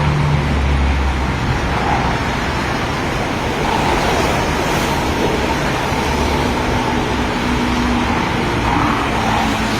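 Crane trucks working beside a road, heard as a loud steady wash of engine and roadway rumble with no distinct individual events and no talk over it.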